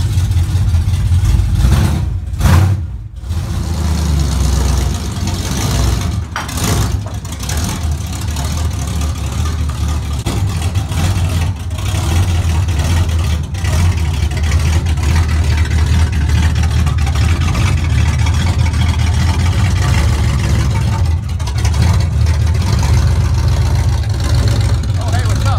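A Plymouth Roadrunner, sitting a little low, drives up a car hauler ramp; its engine rumbles loud and close in a steady, deep drone for the whole stretch, with brief dips and faint voices around it.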